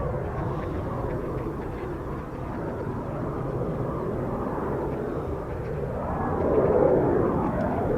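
Eurofighter Typhoon jet on final approach to land at RAF Coningsby, a distant, steady engine rumble that swells slightly louder toward the end.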